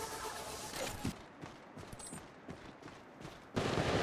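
Video game gunfire in a squad firefight, a scattered run of sharp shots and bursts at low level, then a louder dense burst of fire near the end.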